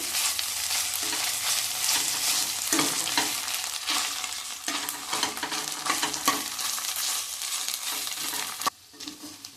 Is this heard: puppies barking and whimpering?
no